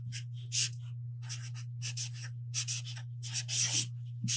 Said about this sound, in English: Once you have your heart cut out, you can go ahead and write something on it.